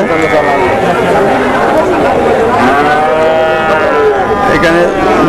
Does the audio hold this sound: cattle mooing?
yes